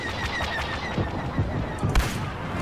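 Gunfire from blasters in the Star Wars Battlefront video game, a run of sharp shots and bursts with a couple of louder impacts near the end, over a steady droning game background.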